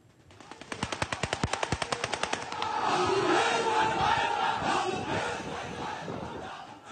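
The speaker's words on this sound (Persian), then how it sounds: "تیراندازی هوایی رسمیه که در بعضی از مناطق ایران در مراسم خاکسپاری انجام میشه" Aerial gunfire at a funeral ceremony in Iran: a rapid burst of automatic shots that gives way to a roaring crowd of shouting mourners.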